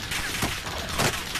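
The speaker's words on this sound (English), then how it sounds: "Oh, someone's shooting at me." Gunfire from a player shooting in the Call of Duty Warzone video game, a dense continuous rattle of shots with a couple of louder bursts, close and steady over the whole moment.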